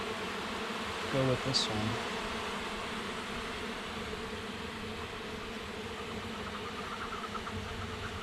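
Honeybees buzz steadily around an opened hive, a constant droning hum under brief speech and a few soft clicks of hive parts being handled.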